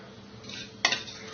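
Cashew pieces stirred in a frying pan with a metal spatula, a quiet steady scraping with one distinct clank of utensil against the pan partway through.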